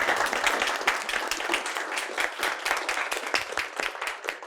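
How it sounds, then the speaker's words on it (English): Audience applause at a leadership talk: a steady patter of many hands clapping together for several seconds, moderately close and fairly even throughout. "If we could all give her a round of applause."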